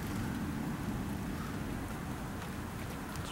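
Heavy rain pours steadily during a strong summer thunderstorm over Hampton Roads, a dense, constant hiss with a low rumbling undertone, loud and even throughout without voices.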